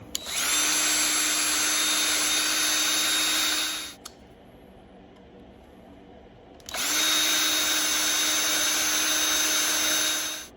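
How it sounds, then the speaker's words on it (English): A power drill whines loudly in two long bursts with a short quiet gap between, running at a steady high pitch while boring out holes to enlarge them. "so I've bored out those holes and I've made them bigger."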